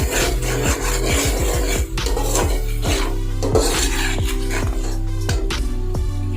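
Spices with turmeric powder and salt roasting in a pan, a spatula scraping and rubbing rhythmically against the metal in loud, repeated strokes over a low hum, close up and continuous.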